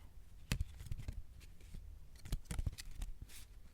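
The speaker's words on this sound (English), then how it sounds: "Now we're just back to shuffling" Playing cards shuffled close to the mic in a soft ASMR setting, giving several quick papery riffles and crisp snaps spread across the few seconds, quiet and without talk.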